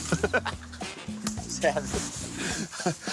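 Several dogs yip, whimper and bark in short bursts close by at a comic book signing event, mixed with people talking and excited voices throughout.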